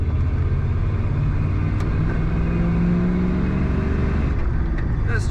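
1992 Ford F-250 XLT 4x4 pickup on the road, heard from inside the cab: a steady low engine and road rumble with a faint hum, continuous and fairly loud throughout.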